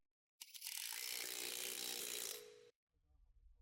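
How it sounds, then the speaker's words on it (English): An electric impact tool with a 22mm socket whirs in one sustained burst of about two seconds, pre-tightening the lug nuts on a 2007-2013 Acura MDX after front lower control arm work, close and fairly quiet, then stops abruptly. "Use the 22mm socket with the electric tool to pre-tighten the lug nuts."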